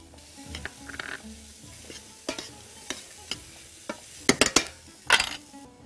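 Onion and a knob of butter cook in a pan, with a faint sizzle broken by scattered scrapes, spoon clinks and a quick cluster of louder metallic knocks near the end.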